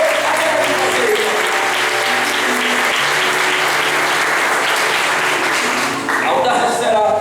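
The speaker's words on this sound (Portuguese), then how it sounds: "Dá uma aplauso ao Senhor, porque o Senhor haverá de fazer." A church congregation applauding for the Lord, a loud sustained burst of clapping with a held keyboard tone beneath it, thinning briefly near the end before picking back up.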